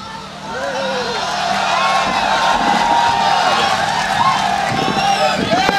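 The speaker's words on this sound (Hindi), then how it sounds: "आपकी जोरदार तालियां आमंत्रित करें" An audience at an all-India mushaira poetry gathering breaks into loud, sustained applause and cheering that swells early and continues throughout, mixed with crowd noise and raised voices.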